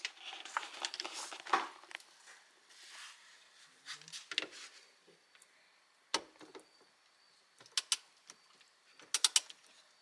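A steering wheel bolt is tightened to 29 foot-pounds with a torque wrench while the wheel is held, producing faint, quick ratcheting clicks and small metallic taps in scattered bursts against a quiet background.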